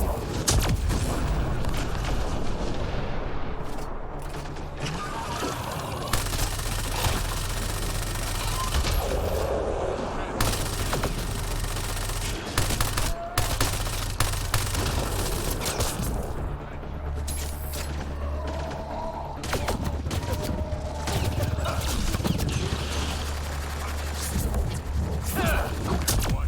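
Continuous gunfire and booming blasts from a sci-fi shooter filled with biotic combat, including an enemy blowing up, in a dense, steady battle din with occasional louder cracks.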